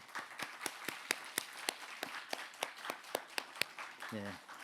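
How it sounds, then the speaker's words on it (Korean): Applause and steady clapping from a church congregation at a Sunday service as the pastor's family comes forward, with sharp individual claps standing out in a regular rhythm over a diffuse crowd wash, and a brief voice at the end. "우리 나오실 때 또 큰 박수로"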